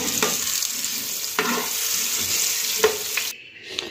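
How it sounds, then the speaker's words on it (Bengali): Potatoes fry in hot oil in a kadai, a dense, continuous sizzle broken by three or four scraping stirs before the noise suddenly drops away near the end. "এবার আলুগুলোকে ভেজে নেব।"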